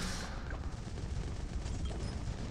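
Dense, continuous rumbling explosions and rapid booms from the video game Bloons Tower Defense 6 fill the whole stretch, loud and close like a sustained barrage.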